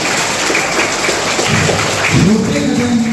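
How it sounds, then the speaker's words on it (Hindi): A crowd claps loudly and steadily for children at an Independence Day celebration in India, a dense, continuous applause with a few voices rising underneath near the end. "एक बार जोरदार ताली के साथ हम बच्चों को"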